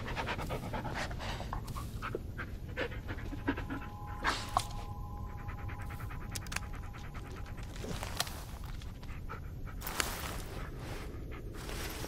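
A dog pants rapidly and steadily close by in the Blair Witch video game, with soft footsteps and light rustling scattered through the quiet.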